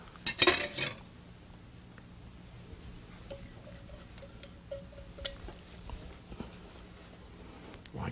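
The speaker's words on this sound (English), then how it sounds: "Let's fold it all together." Pre-cooked potatoes being folded together with sauce in a large bowl, with a spoon clinking and scraping against the bowl in scattered taps and knocks after an early louder clatter.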